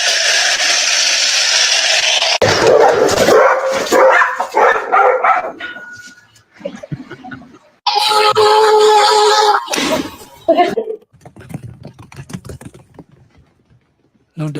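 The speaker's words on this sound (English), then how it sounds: "I just love seeing happy dogs" Happy dogs racing around with the zoomies bark in loud, scattered bursts, mixed with clattering, rustling and brief gaps of quiet.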